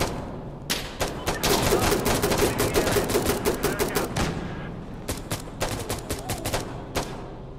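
A minigun firing in a combat video game, long loud bursts of rapid automatic fire that stop and then resume in shorter rattling volleys.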